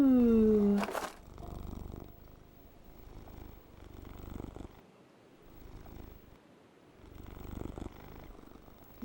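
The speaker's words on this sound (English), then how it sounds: "I love this big fluffy Junjo cat" A big fluffy cat purrs softly and steadily in a low rumbling pulse for several seconds. A brief tonal sound opens the clip, and faint background noise sits over the purr.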